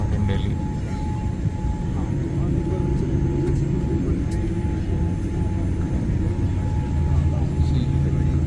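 Steady low cabin rumble inside a parked Boeing 787 Dreamliner on the ground in hot weather with the air conditioning not working, a continuous dense drone with faint talk in the background.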